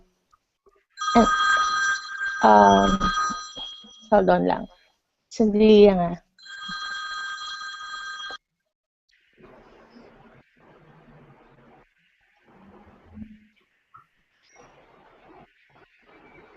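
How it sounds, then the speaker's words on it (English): A telephone rings during a call with a few bright electronic ring bursts, interrupted as someone briefly speaks, followed by quiet faint talk in the background. "Anyway, that's a phone call."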